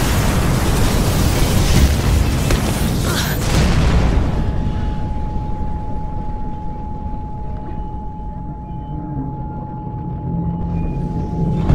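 A loud, rumbling blast from Mirror's Edge Catalyst on PS4 Pro, with a dense roar in the first seconds that fades into a long, low, ringing tail under a steady tone.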